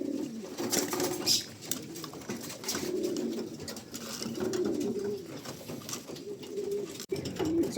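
Several pigeons coo continuously nearby, soft rolling calls overlapping one another, with a brief click near the end, at a pigeon show in Bacoor, Cavite.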